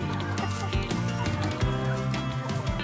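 Hens in a flock clucking and chattering, several overlapping calls in an irregular rhythm, close and moderately loud with no talk.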